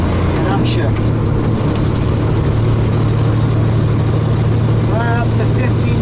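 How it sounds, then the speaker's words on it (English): A heavy truck engine drones loud and steady through a 13-speed split shift, deep low rumble throughout with someone talking over it. "So I downshift the auxiliary and upshift the main."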